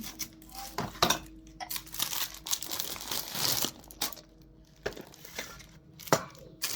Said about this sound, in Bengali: এই তো সব কিছু আনপ্যাক করা হইতেছে